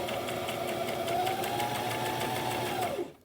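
A sewing machine stitches a seam in a fast, even mechanical whir with rapid needle ticks. The motor holds steady, then winds down and stops near the end.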